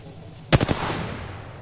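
A burst of rapid gunfire in a PS4 shooter game: three or four close, loud shots in quick succession, followed by a fading echoing tail.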